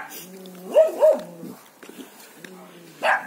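A dog outdoors at a rural homestead gives a couple of short yips or whimpering barks, close by, followed by quieter sounds and one more brief bark near the end.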